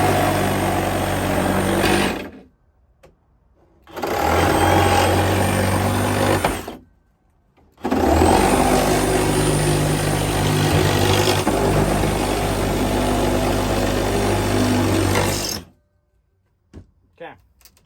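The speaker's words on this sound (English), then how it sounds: "My recip saw, my DeWalt recip saw. We're going to cut these planks out real quick." A DeWalt reciprocating saw cuts through wooden pallet planks for a chicken coop, three loud buzzing bursts of rapid blade chatter separated by short pauses, the last cut running longest before stopping.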